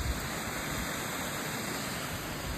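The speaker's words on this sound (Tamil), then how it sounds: "இது ஒரு தண்ணி வீழ்ச்சி இருக்குது, தண்ணி வீழ்ச்சி" Waterfall at Manavanur lake near Kodaikanal, a steady broadband rush of falling water, faint and distant, with no voices over it.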